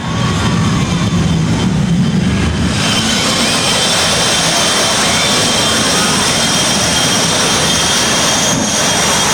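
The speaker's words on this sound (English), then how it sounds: "Feel the heat, feel the thunder, feel the roar. The Tim Chitwood Thunder jet truck." The Tim Chitwood Thunder jet truck roars at a speedway season finale, a loud, continuous jet-engine blast with a sustained hiss and rumble that never lets up, close and overpowering with no voices heard.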